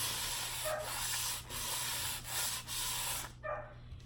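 Sandpaper rubs hard along the edges of darker painted wood furniture in repeated close, steady strokes with brief pauses between passes, set against a low background hum.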